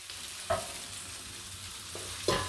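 Vegetables sizzle in a frying pan for a Hungarian beef goulash, a steady soft crackle broken by two short clatters of stirring.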